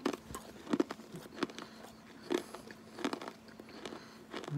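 Stick of bubble gum from a 1989 Topps baseball card pack being chewed close up, with soft, irregular wet crunches and bites recurring about every half second to second at low volume.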